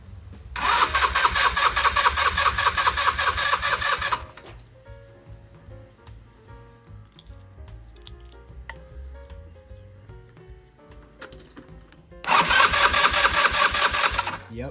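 A small engine cranked by a starter button on a broken machine, cranking loudly for about four seconds, then quiet ticking and clicking, then another loud stretch of cranking near the end; no talking.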